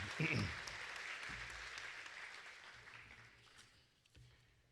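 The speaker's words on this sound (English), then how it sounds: "let's give Resistol a round of applause" Applause breaks out at a rodeo hall of fame banquet for a hat-company sponsor, loudest at the start and fading to scattered clapping over a few seconds, with low murmuring in the room.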